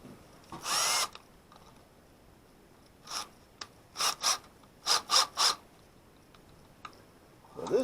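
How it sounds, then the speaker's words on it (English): Power drill on a tugboat repair job, whirring in short separate bursts: one early run, then several quick pulses in a row, fairly close and clear against quiet background noise. "What do I do with the bit? Put a drill."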